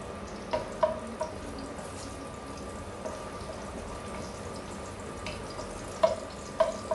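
Sautéing in a pan for pineapple chicken in coconut milk gives a soft, steady sizzle with occasional light clinks of a utensil against the pan.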